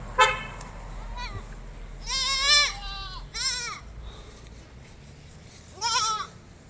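Goats and young kids at a livestock sale give several loud, wavering bleats, one short call near the start, then a longer cluster and two more spaced calls, over a low steady background rumble.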